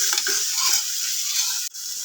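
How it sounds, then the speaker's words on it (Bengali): Chopped onion, green chili and spices, including ginger, garlic and cumin paste, sizzle and fry in a pan, a steady bright hiss with stirring scrapes and a brief dip near the end. "সব মশলাগুলো আমি একসাথে ভেজে নিচ্ছি"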